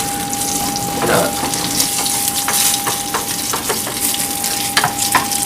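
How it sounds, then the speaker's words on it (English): Cicadas are sauteed in a frying pan, a loud, steady sizzle and crackle with bursts of popping and stirring scrapes throughout. "Gently sauteed."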